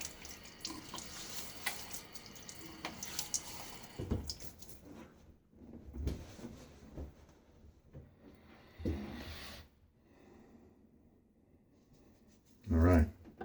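Tap water splashing as a face is wetted before a quick shave at a sink: intermittent running and splashing water, fairly soft, with brief louder bursts, with some handling noise and a person talking at times.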